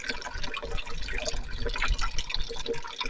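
Water trickles and splashes steadily over stones in a homemade decorative fountain driven by an old hand pump, a continuous close wash of drips and running flow with no voices.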